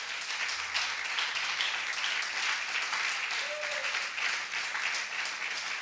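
A church congregation applauds together during a sermon, a steady wash of clapping from many hands that holds at an even level throughout with no speech over it.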